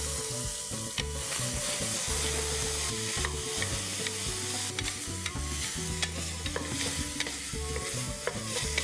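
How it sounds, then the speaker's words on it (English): Finely chopped small onions frying in a pot for a one-pot rice dish, with constant sizzling and busy spoon stirring, scraping and clattering against the metal, close and continuous throughout. "I've got about 2 small onions here,"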